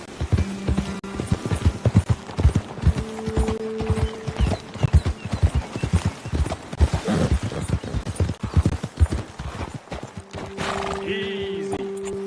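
Horses' hooves clip-clop on the ground in the video game Red Dead Redemption 2. The footfalls are close and rhythmic, with occasional whinnies and neighs, a soft mechanical rattle of tack, and some talking.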